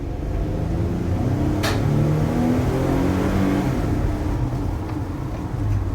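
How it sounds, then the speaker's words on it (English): A 2019 Nissan NV 2500 High Roof van with its V6 engine accelerates along a gravel road, giving a steady, close engine drone over continuous low road rumble, with no talking. "let's go ahead and give it an acceleration"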